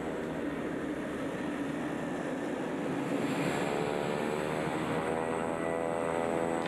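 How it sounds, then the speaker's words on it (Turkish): A flying doctor propeller aircraft takes off from a lake in Australia, its engine a steady, loud drone with a slowly shifting pitch that holds throughout, with no talking over it. "Yardım çağrısı gelir gelmez çelik kanatların taşıdığı bu gölde havalanacak"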